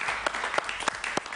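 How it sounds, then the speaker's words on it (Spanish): Studio audience applause on a Spanish-language talk show, a brief burst of steady clapping with a few sharper claps standing out over a continuous wash. "Un aplauso para él, por favor."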